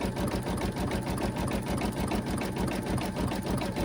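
Embroidery machine satin stitching around a design through fabric and batting layers, a steady, rapid mechanical whirr with a fast regular needle rhythm, close and continuous.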